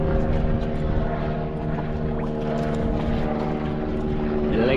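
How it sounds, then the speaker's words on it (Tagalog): A helicopter flies nearby with a loud, steady rotor drone and a deep layered hum that holds for the whole stretch, with no talk over it. "Helicopter."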